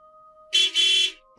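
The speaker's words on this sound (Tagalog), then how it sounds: "Bumusina ang driver." A car horn sounds from a driver arriving at night, with two close, loud blasts, the second one longer, against near silence and a faint steady hum.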